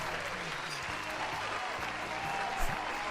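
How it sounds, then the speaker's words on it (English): An audience claps for the contestants of a podcast game show, a short, even patter of applause at moderate volume. "let's have a round of applause for our fantastic contestants, Dan Grech and Jeremy."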